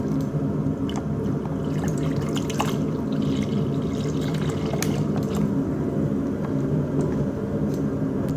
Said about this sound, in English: Add the milk.